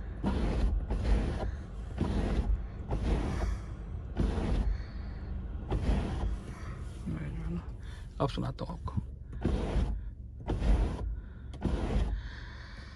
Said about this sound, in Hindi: इसकी सनरूफ की आवाज़ बहुत बुरी है